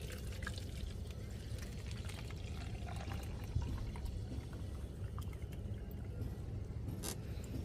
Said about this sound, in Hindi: हम आपको दिखाते हैं अभी इस लिक्विड को निकाल के